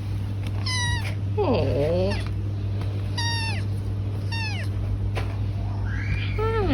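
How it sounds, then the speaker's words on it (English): Several cats on a street in Trabzon, Turkey, one small kitten and two adults, meow repeatedly in sharp, high cries over steady low traffic hum. A person briefly exclaims among the calls. "It's a little kitty and two big kitties."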